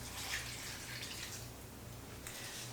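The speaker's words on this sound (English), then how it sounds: "I'm going to just pour this in." Liquid pours steadily into a crock-pot of hearty vegetable soup with chicken and beef, a continuous close trickle and splash under a faint low hum, no talking.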